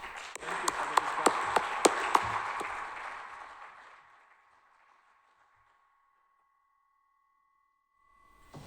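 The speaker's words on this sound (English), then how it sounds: "So one more round of applause," Audience applause fills a conference session hall after a scientific presentation, a dense burst of clapping with sharp individual claps that fades out over about four seconds into near silence.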